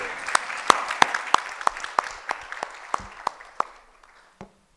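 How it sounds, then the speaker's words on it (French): An audience applauds after performers are introduced at an event, a thin spread of claps with distinct sharp individual hand claps at a moderate distance, fading out after about four seconds. "De gros applaudissements, s'il vous plaît."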